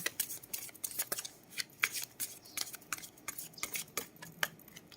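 Oracle cards are shuffled by hand in quick bursts, a series of crisp, close riffling flicks and soft slaps in uneven rhythm, fairly quiet with no voices.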